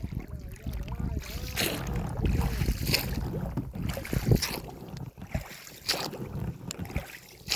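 A boat moves on Osek lake near Zharkent during fishing, with water lapping and splashing against the hull, wind buffeting the microphone, and knocks and bumps at close range.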